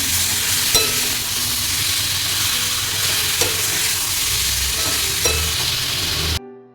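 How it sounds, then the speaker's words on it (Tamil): Mutton liver fries in a pan with a steady close sizzle. A spoon stirs it and scrapes now and then, and no one speaks. "இந்த ஈரலை ஒரு அஞ்சு நிமிஷம் நல்லா அப்படியே கிளறி விடணும்"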